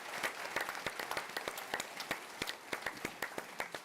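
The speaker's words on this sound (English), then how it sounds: "If you'd please give them a hand" An audience at a lecture series event applauds the panelists, one of them a newspaper managing editor. The clapping is steady and fairly sparse, with distinct individual claps that stay close and fade a little toward the end, and no voices over it.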